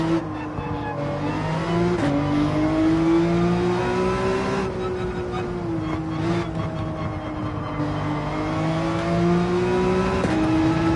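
Race car engine in Gran Turismo 7 on the Dragon Trail circuit, a continuous loud drone whose pitch rises and dips as the car accelerates and shifts, with brief tire squeal, alone without talk.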